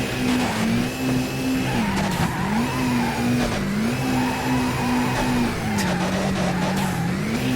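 A racing car in a Fast and Furious video game drives hard under steady, loud engine drone with rising and falling revs and long tire squeals as it slides through corners, constant and close.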